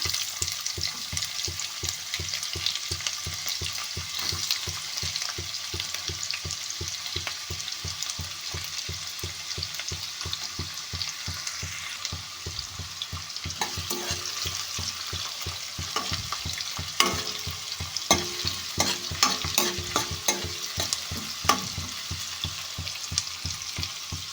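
Mustard seeds, curry leaves and onion fry in oil in a kadai on a stove, a steady close sizzle with dense crackling pops and stirring scrapes, continuous and fairly loud.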